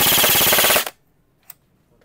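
A Pro Force SIG MCX Virtus airsoft AEG rifle fires a rapid full-auto burst of evenly spaced mechanical cracks for under a second, close and loud, then stops sharply, followed by one faint click.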